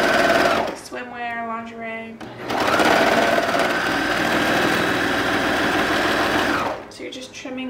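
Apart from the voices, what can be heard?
sewing machine stitching a seam on boxer briefs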